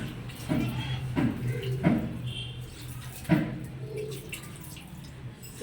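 Water poured onto soil in a bucket planter with drainage holes, heard as a few soft splashes and drips at irregular intervals over a low steady hum.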